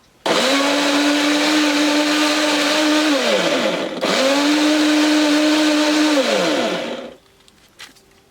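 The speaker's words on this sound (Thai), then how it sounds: "เอาเข้าเครื่องปั่น" A blender whirs loudly, pureeing carrots with a little water for carrot juice, in two long, steady high-pitched runs separated by a brief dip in speed, then it stops.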